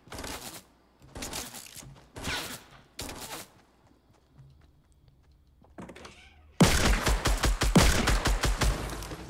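Sniper rifle fire in Fortnite Battle Royale: a few separate sharp cracks spaced a second or so apart, then a louder, rapid burst of repeated shots closing out the stretch.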